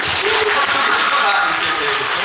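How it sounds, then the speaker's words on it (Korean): A theatre audience at the first-performance curtain call of the musical Paganini applauds the production staff, with dense, steady clapping from a full house throughout and a voice faintly over it. "박수 한번 보내주세요"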